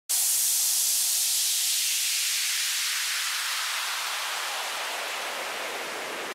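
A downlifter sound effect sample in FL Studio, a loud wash of hissing noise that sweeps steadily downward over several seconds and then cuts off abruptly.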